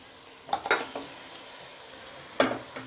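Mutton frying with onions in a pan for mutton kulambu, a soft continuous sizzle with two bursts of stirring scrapes at the start and near the end, close and fairly quiet, with no talking.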